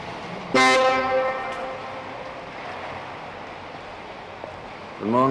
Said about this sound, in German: Hat meine Hupe Sie so erschreckt?